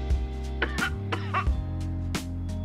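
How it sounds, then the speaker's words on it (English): Cartoon cat Snowball II coughs up a hairball in The Simpsons: Tapped Out game, a short run of retching, hacking coughs and throat-clearing sounds over a steady game music drone. "Snowball 2 coughs up a hairball."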